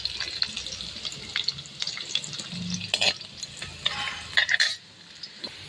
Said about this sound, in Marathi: लसणाचे काप आणि थोडा लांबोळका कापलेला कांदा घालून आपल्याला हे मिश्रण परतवून घ्यायचे आहे।